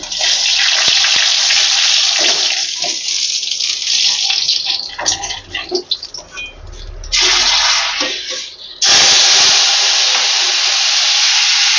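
Black mustard seeds and salt hit hot mustard oil in a pan and hiss loudly, a broad steady sizzle that dips and flutters in the middle, then surges back strong and continuous.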